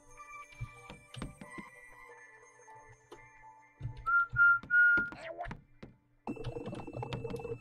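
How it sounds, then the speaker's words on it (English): A short festive tune is whistled in a Christmas-themed home-invasion video game, with three bright sustained notes in the middle, surrounded by game sound effects, clicks and thumps, and a denser burst of game sound at the end. "Press F to whistle a festive tune and distract the guard robot."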